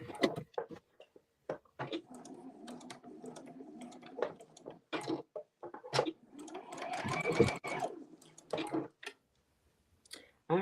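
Sewing machine stitching fabric loops and straps for a top, running in short bursts with clicks and pauses, fairly close and clear with brief gaps between seams.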